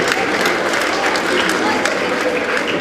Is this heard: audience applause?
yes